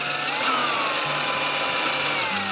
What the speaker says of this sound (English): I want to drill down and away from the existing hole.